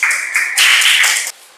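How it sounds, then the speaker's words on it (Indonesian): A classroom of students applauds a winning group at the end of a lesson, bursts of brisk clapping lasting over a second, loud and close, then cutting off abruptly. "Tepuk tangan buat kelompok 2."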